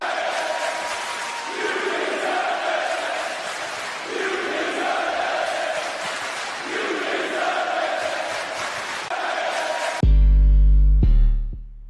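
A large wrestling arena crowd chants in a steady repeating rhythm at Monday night Raw, loud and far-off for about ten seconds, then a sharp heavy impact and low rumble cut in at the end.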